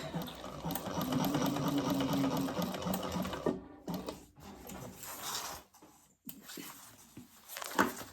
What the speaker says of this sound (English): sewing around the edge, four sections together